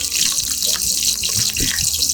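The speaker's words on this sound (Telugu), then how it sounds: "మిర్చి అయితే వేసుకోవాలి దోస్తులు," Green chillies sizzle in hot oil with cumin seeds in a pan, a loud, bright, steady hiss with small crackles, close up and without talk.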